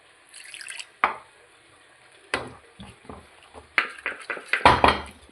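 Water poured into a cooking pan of onion gravy gives intermittent splashes and drips, with sharp pan knocks and short bursts of sizzle between quieter gaps.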